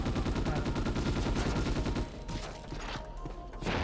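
Rapid automatic gunfire rattles loudly in Ghost in the Shell: Stand Alone Complex on PS2, a dense burst that breaks off into scattered shots and impacts.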